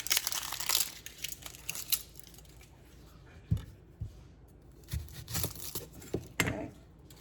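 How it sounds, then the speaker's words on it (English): Papery outer skin being pulled and crackled off an onion, dry crinkling and crisp tearing rustles in irregular close bursts with small thuds against a cutting board. "Onion has a thick shell on it. I'll peel some of that away."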